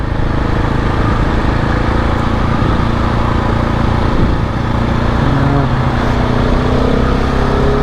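A side-by-side UTV passing on an off-highway trail in a state forest, its engine a steady loud drone mixed with a motorcycle's running engine close by, continuous throughout.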